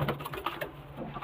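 Pigeons in a loft coo in soft throaty murmurs, faint and close, a brief continuous burble with no voices.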